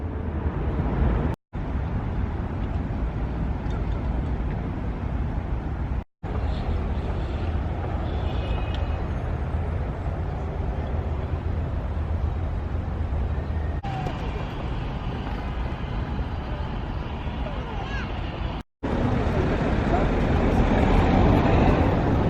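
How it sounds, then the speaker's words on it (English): Noisy street traffic in Chisinau, Moldova: a steady, dense roar of passing cars and buses filling the whole stretch, broken by a few brief cuts, with a faint voice now and then. "Gosh, you had some noisy traffic in Chisinau."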